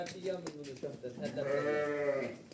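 Arashan breed rams bleating in a pen, a few close wavering calls with the longest drawn-out bleat near the end, mixed with nearby human talk.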